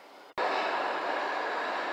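Rotterdam metro Line D older Type B train running, a steady broadband rumble and rush of wheels on rails after an abrupt cut, loud and close from inside or beside the moving train.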